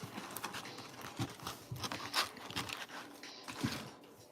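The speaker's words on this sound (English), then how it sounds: "So this gets shuffled." Pokémon booster packs being shuffled by hand, with close, irregular crinkling and crackling of foil wrappers and soft rustles and scrapes in quick bursts, no talking.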